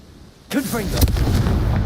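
A sudden spell blast booms in the fantasy game Hogwarts Legacy, a loud burst with a short crackle followed by a sustained rumbling tail.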